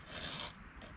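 A short rasping rub of a file drawn across a chainsaw chain by hand, one steady stroke up close followed by a quieter scrape.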